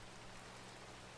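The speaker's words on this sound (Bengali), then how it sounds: "বাইরে অনেক বৃষ্টি হচ্ছে" Steady rain falls in the Minecraft video game, a continuous faint hiss of drops with no breaks and no voices over it.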